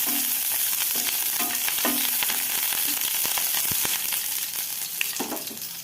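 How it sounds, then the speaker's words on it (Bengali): Chopped tomato frying in hot oil in a village kitchen, a loud, close, continuous sizzle with intermittent scraping strokes of a spatula as it is stirred, no voices. "তেল গরম হয়ে গেছে। এবারে এর মধ্যে দিয়ে দেব টমেটো কুচোনোটা।"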